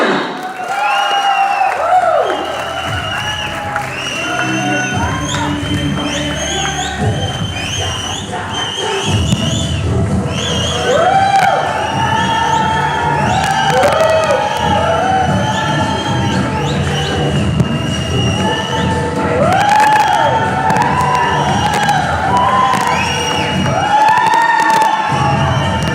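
Audience at a corporate Xelerate 2022 event cheering and shouting steadily as the retail head is called onto the stage, a loud continuous crowd roar with whoops rising and falling over about half a minute.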